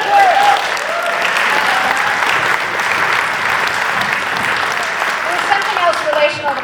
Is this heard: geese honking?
no